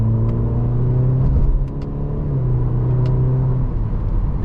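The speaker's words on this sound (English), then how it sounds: "Let's put it into manual mode and see how the paddle shifters react." The turbocharged engine of a 2023 Cadillac CT4 Sport in manual mode hums steadily from inside the cabin, a loud low drone with a brief dip in pitch that suggests a gear shift midway.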